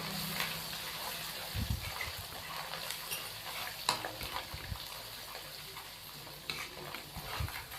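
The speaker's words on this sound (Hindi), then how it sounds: "अदरक और लहसुन के पेस्ट को हम 1 मिनट के लिए फ्राई कर लेंगे" Ginger and garlic paste fries in a pan with a soft, steady sizzle, broken by a few stirring scrapes and clinks, fairly quiet throughout.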